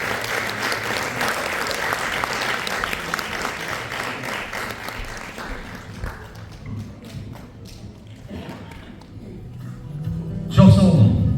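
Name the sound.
audience applause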